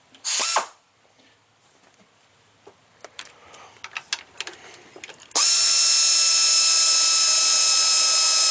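Deep socket tool working a 13mm AC manifold bolt on a 2010 fifth-generation car: scattered metallic clicks and taps, then a loud, steady high-pitched whir of a power tool running continuously, close up.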